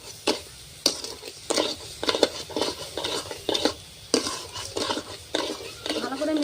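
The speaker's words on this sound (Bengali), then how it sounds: "এখন আমি ভালো করে চিনির সাথে নারকেলগুলো মিশিয়ে নেব।" Grated coconut being stirred with sugar in a wok, a spatula scraping and knocking against the metal in steady repeated strokes with a light sizzle underneath, close up.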